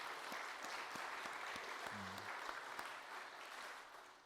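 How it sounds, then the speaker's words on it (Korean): A church congregation claps for a performer after a recital during Sunday worship, a faint patter of applause with scattered separate claps, fading toward the end. "우리 주연자매를 위해서도 격려의 박수 한번 더 힘차게 보내길 바랍니다"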